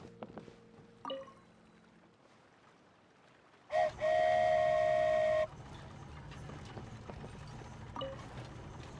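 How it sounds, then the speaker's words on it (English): A toy train ride in a video game: a loud, sustained whistle-like blast of about two seconds sounds mid-clip, set against a low rumbling ambience with a few softer clanks and no talking. "So this is what it feels like to ride a toy train."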